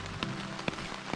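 Rain patters on a tent at a campsite along the Lake Superior coastal trail, with a few distinct drops tapping against soft, steady background noise.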